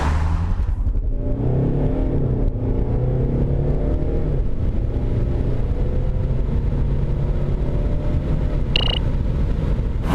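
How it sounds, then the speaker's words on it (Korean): A Volvo V40 Cross Country D4 accelerates hard from a standstill to 100 km/h, its engine loud and continuous, the pitch climbing and dropping briefly at gear changes. "이와 같은 파워트레인을 기반으로 해서 정지 상태에서 시속 100km까지의 가속력을 체크해 봤는데요"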